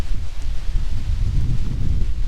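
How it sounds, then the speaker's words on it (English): Gusty wind buffets the microphone at Mille Lacs Kathio State Park, Minnesota, a continuous low rumble with fluctuating strength and no other clear sounds. "Oh, windy. Pretty windy today."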